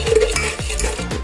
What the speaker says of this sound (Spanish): Y seguimos batiendo.